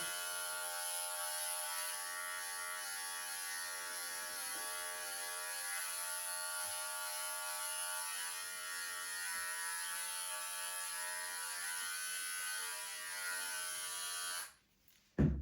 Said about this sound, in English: just get my little trimmer and just skin away